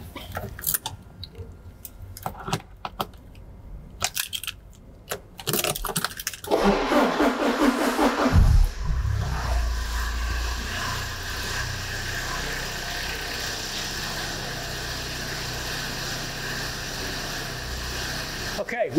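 A car engine, tested for multi-point injector current, starts about two-thirds of the way in and runs at a steady idle, preceded by clicks, handling noises and brief voices.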